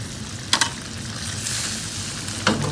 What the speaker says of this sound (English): It's now simmering and cooking.